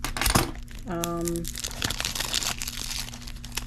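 Cellophane wrapping peeled off a cassette tape box set, with crisp crinkling and crackling, a brief tonal knock, and continued rustling up close in a quiet room.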